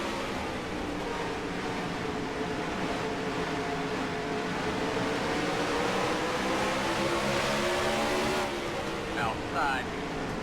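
Race cars drive in NASCAR Racing 2003, a steady engine drone with whining harmonics that rise and fall as the pack circles. Commentary talks over the engines almost the whole time.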